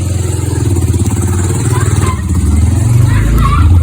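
A motorbike engine in a home garage runs loud and close with a rapid, steady thumping pulse, rumbling on throughout under buffeting wind noise.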